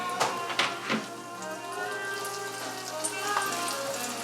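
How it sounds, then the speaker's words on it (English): Shrimp sandwich filling frying in hot oil, a steady quiet crackling sizzle with a few sharper pops near the start, heard alone with no talking. "slide it into the oil"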